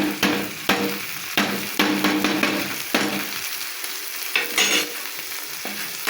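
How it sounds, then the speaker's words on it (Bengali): Ground spices and cumin paste sizzle and fry in a pan for an egg and bottle gourd curry, with a spoon scraping and stirring in repeated strokes throughout, close and steady. "একদম ভালো করে ভাজতে হবে যেন কাঁচা গন্ধটা না থাকে"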